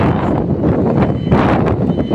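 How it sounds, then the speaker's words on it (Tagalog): Strong wind buffets the microphone at an outdoor railway construction site, a loud continuous rumbling roar with gusty swells throughout and no clear speech. "malakas ang hangin"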